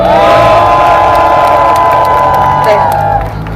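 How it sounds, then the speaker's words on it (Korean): A gathered crowd at a citizens' rally in Daejeon cheers and shouts loudly and continuously, with a long sustained whoop over the roar before it fades slightly at the end. "응원의 함성을 한번 부탁드려도 될까요?"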